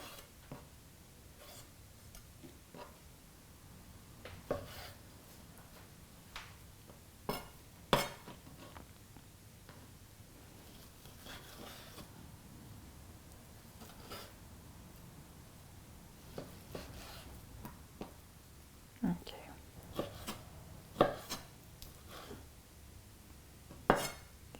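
A knife on a cutting board slices a fine cut of beef, trimmed of sinew, into small bite-sized cubes for Vietnamese shaken beef. Irregular close taps and knocks sound over a quiet room, with no voices.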